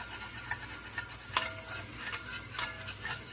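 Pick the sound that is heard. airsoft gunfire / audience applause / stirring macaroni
stirring macaroni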